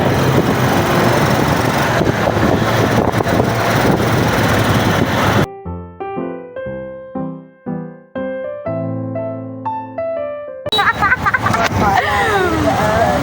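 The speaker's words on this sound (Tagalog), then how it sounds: "Nakasakay na ako ng tricycle papuntang Quiapo Church." A motorized tricycle carries a rider toward Quiapo Church, its engine a loud, steady rushing drone. A stretch of music cuts in for several seconds midway before the engine roar returns.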